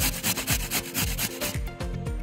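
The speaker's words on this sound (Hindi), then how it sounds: "अब हम इस गाजर को घिस लेंगे इसमें।" Carrots are rubbed against a grater for carrot halwa, producing a rhythmic, rasping scrape, close and fairly loud, with regular back-and-forth strokes.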